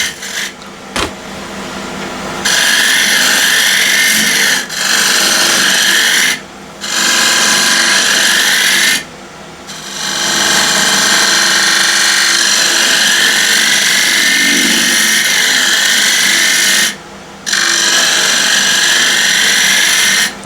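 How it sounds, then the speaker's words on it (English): A continental spindle gouge roughs out a tenon on an ash cross-grain box blank spinning on a lathe, giving a loud, sustained scraping rasp in long bursts broken by several brief pauses as the tool lifts off the wood. "So I'll rough the tenon out again using continental spindle gouge"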